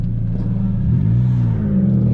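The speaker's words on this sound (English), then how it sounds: "You're about to hear a car. Infinity. It's got a VQ." An Infiniti car with a VQ engine rumbles steadily nearby, its low drone rising in pitch partway through as the engine revs up a little, with a voice talking over it.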